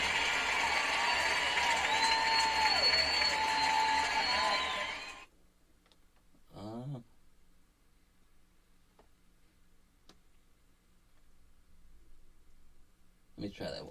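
Canned applause sound effect played during a live stream, a loud burst of clapping and crowd noise lasting about five seconds before cutting off abruptly, followed by near silence with a few faint clicks.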